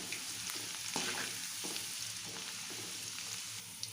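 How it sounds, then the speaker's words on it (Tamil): Moong dal deep frying in hot oil, added a little at a time, gives a soft, steady bubbling sizzle with faint crackles and occasional light stirring clinks, fairly quiet and close throughout. "கொஞ்சம் கொஞ்சமாக போட்டு இந்த மாதிரி நல்லா பொரிச்சு எடுக்கணும்."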